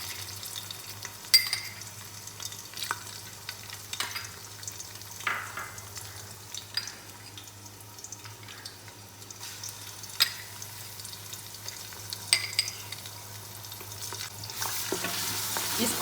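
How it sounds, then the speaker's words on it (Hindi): Garlic and ginger paste frying in hot oil for mutton nihari, a soft, continuous sizzle with scattered stirring scrapes and clinks, fairly quiet and close, with no talking. "ये ऑयल मेरा गर्म हो गया है। अब मैं इसमें लहसुन और अदरक का पेस्ट डालती हूँ।"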